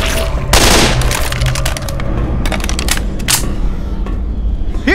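Rifle gunfire in the zombie shooter Left 4 Dead 2 rings out in loud, sharp bursts of rapid shots, some clustered into quick volleys, with brief gaps between them.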